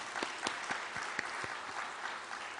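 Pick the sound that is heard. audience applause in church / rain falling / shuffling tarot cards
audience applause in church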